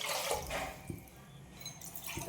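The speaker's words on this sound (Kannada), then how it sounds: "ಸೊ ನಾನು 4 ಗ್ಲಾಸ್ ನೀರನ್ನು ಹಾಕ್ತಾಯಿದ್ದೀನಿ." Water is poured into a cooking pot while making menasina kadabu, a soft, faint trickle and splash lasting a couple of seconds.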